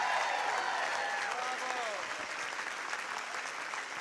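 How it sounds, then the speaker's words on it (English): A packed political rally crowd applauds steadily throughout, a dense sustained wash of clapping with a few faint voices and whoops mixed in. "Give yourselves a round of applause."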